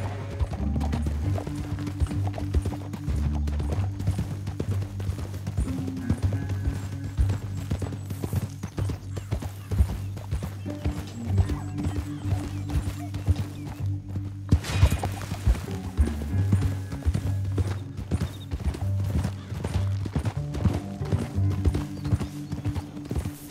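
Galloping horse hooves in Red Dead Redemption 2 beat a steady, loud clip-clop rhythm throughout, riding over a low droning game score, with an occasional whinny.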